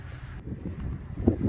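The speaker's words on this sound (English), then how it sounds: "So if you guys hear the wind, I do apologize." Wind buffets a microphone outdoors on a cold day beside a 2023 Honda CR-V LX, a low, gusty rumble that stays fairly faint with a brief louder puff near the end.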